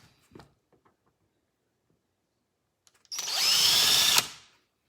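A few faint taps, then a power drill whirs loudly for about a second before cutting off.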